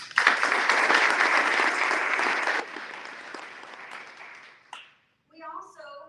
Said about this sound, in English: help me give them a round of applause